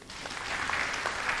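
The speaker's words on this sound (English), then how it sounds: "Can you clap for her again?" Brief, steady clapping from an audience for a speaker at a business talk, moderately loud and even throughout.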